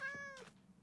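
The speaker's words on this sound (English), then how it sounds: "Oh, it's a skittish kitty." A single short cat meow from the Minecraft video game, a bright harmonic cry lasting under half a second, fairly faint and followed by quiet background.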